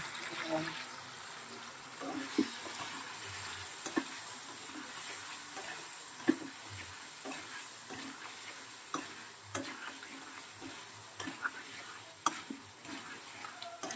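Water splashed into a hot pan of food on a gas stove, setting off a steady soft sizzle and hiss with scattered ticks and light stirring clinks throughout; a voice talks faintly underneath.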